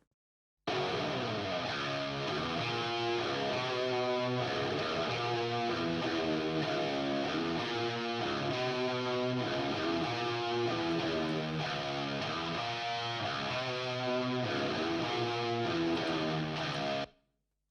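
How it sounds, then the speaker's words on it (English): A sustained, honky, boxy-sounding guitar passage, boosted around 300 Hz, plays steadily with no talking, its midrange thick and nasal throughout. "you can get this sort of honky sound from your guitar"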